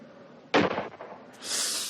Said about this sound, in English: he's going to shoot him